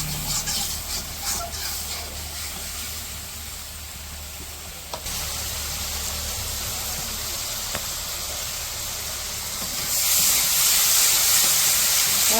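Spice paste sautés in a pan over a village kitchen fire, giving a continuous loud sizzle and hiss with occasional stirring scrapes. The sizzle swells louder toward the end.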